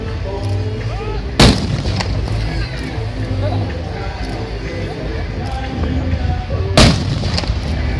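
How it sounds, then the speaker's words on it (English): An AS-90 self-propelled artillery gun fires during a British Army display, two loud sharp booms several seconds apart ringing out over steady crowd and outdoor background noise. "Once it has fired the mission, the AS-90 will have to move location quickly"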